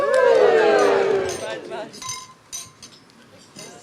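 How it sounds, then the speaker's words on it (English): Glasses clink together during a wedding toast, a bright ringing chime at the start followed by scattered smaller clinks, with voices and crowd murmur around it. "raise your glass and wish Annie and Naomi health and happines"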